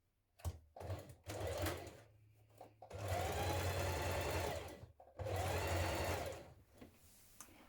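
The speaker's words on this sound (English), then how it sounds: "you can also edge finish or zigzag stitch around that outer edge of that facing piece" A sewing machine runs zigzag stitching around the outer edge of a facing piece for Burda trousers, in several close bursts: short starts, then two long steady runs separated by brief pauses.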